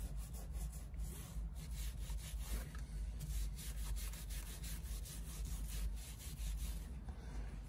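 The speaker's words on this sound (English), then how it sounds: "So we'll scrub all that off. All the oils and grease and various conditioners and stuff people have put on here over the years." Continuous vigorous scrubbing on old leather to strip oils, grease and conditioners, a dense rasping back-and-forth texture heard up close with no voices.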